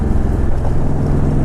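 A Honda VTX 1800 cruiser motorcycle rides down the highway on a cold fall day, its steady low engine drone close and loud under a constant rush of wind.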